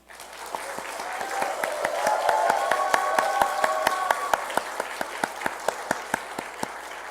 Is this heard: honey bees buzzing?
no